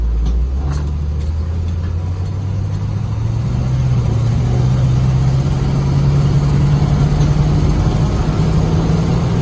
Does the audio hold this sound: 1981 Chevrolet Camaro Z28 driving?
yes